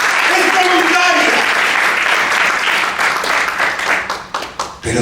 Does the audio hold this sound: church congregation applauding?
yes